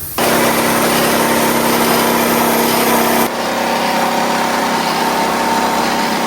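A rice mill machine, sold as a new version of the Magic Rice Mill, runs steadily and loudly with a constant high mechanical whine and hum. Near the middle the motor tone drops slightly but keeps running with no voices.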